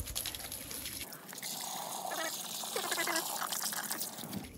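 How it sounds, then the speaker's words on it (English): A garden hose sprays water onto a car wheel during a wheel cleaner wash, giving a steady, close hiss and splatter that runs for several seconds. "we're gonna hose off the wheel now"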